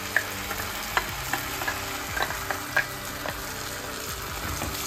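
A yogurt and cashew paste is stirred continuously into soya chaap masala in a hot pan. Steady frying sizzle runs under close, soft scraping and clinking of the spoon against the pan.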